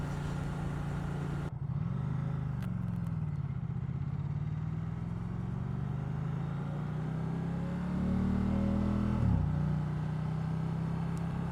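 A 2019 Ducati Diavel 1260 motorcycle engine drones steadily while riding, rising and falling in pitch with throttle changes, with wind rush throughout and a brief surge near the end.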